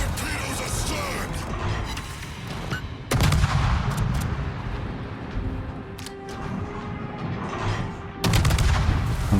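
Naval gunfire in World of Warships: heavy booming salvos land at intervals over a constant low rumble of battle, with a loud burst near the start and another near the end.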